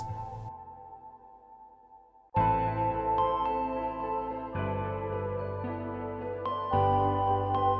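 A synth lead melody carries cheerful indie video game music with a layered backing arrangement, entering loud and sustained after a softer opening, with tonal notes changing in steps.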